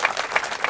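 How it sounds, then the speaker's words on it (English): Applause for volunteers who set up a church auditorium for a worship service, a steady mass of many hands clapping close and fairly loud, with no voices over it. "Let's give them a round of applause"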